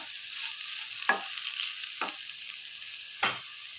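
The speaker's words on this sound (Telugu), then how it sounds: "మూత తీసి మళ్ళీ దొండకాయను ఒకసారి ఇట్లా కలుపుకొని" Ivy gourd (dondakai) frying in a pan and being stirred, a soft continuous sizzle broken by three sharp scraping strokes of the spoon, close by and with no voices.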